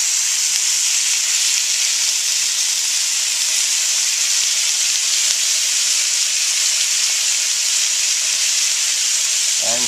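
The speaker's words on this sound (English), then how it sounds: "now we're going to go ahead and place them on our grill" Marinated Greek skewers sizzle on a grill, a steady, close, loud hiss of frying that continues unbroken for about ten seconds with no talk over it.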